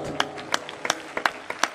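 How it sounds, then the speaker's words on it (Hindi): A crowd at a church gathering honouring a visiting chief minister gives rhythmic applause, sharp synchronized claps at a steady beat over a low background murmur. "और एक बार फिर से तालियों के साथ"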